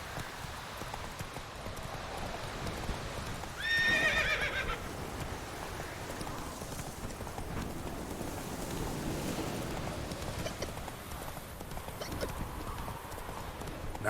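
In The Witcher 3, a horse gallops with steady clip-clop hoofbeats throughout, and one loud neigh rises near the start over outdoor ambience.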